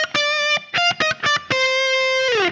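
Distorted electric guitar plays a fast solo lick: quick rhythmic bursts of clipped, separated notes, then a sustained note that bends and wavers at the end, loud and up close.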